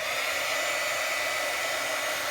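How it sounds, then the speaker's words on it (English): Steady, loud blowing roar of a heat embossing tool running continuously, a dense hiss with no pauses and no voices. "I'm just going to give the heat tool a few seconds to heat up"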